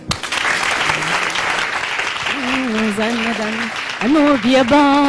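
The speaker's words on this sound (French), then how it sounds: "Applaudissez pour elle." A studio audience at a televised music show applauds in a loud, continuous patter, with a voice calling out over it and singing starting near the end.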